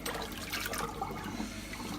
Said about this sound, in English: And let out the water.